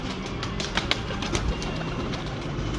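Red-eyed breeder pigeons coo softly over steady background noise, a few brief wing flutters or rustles rising in the middle, with no voices present.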